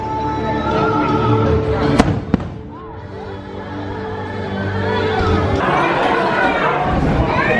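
Fireworks over Magic Kingdom at Walt Disney World: loud booms and crackling bursts, with one sharp crack near the start, heard amid steady crowd chatter and people talking nearby.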